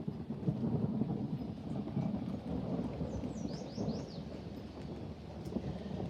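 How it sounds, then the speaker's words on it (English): Thunder rolls and rumbles through steady rain during a summer thunderstorm over a garden after hot, dry days, a continuous low, loud roar with rain hiss and faint bird chirps above. "I love thunderstorms, so I love hearing the thunder."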